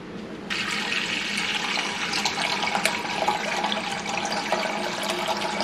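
Tap water runs into a medium-sized cooking pan, filling it with about a quart to a quart and a half; a steady, close rushing and splashing starts abruptly and continues evenly for several seconds with no voices.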